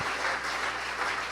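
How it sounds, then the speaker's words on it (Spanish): A church congregation applauds in a brief, steady spatter of clapping, moderately loud and even throughout, with no voices over it. "Denle un aplauso al que vive"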